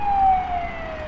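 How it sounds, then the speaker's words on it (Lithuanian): An ambulance siren wails as the vehicle pulls away from a fatal road accident on a city street, a single steady tone sliding slowly downward and fading a little as it recedes. "Išvažiuoja greitosios pagalbos automobilis"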